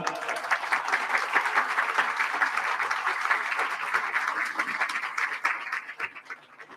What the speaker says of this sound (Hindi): पहले तो उनका स्वागत तालियों के द्वारा